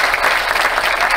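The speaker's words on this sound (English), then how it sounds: "shall we give them one big applause one more time?" Audience applause at a conference talk: dense, steady clapping from a room full of people, loud and continuous throughout.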